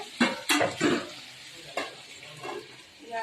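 Tamarind leaf curry frying and being stirred in a pan, with a few scraping stirs early on and softer sizzling and clinks afterward, heard up close with no talking.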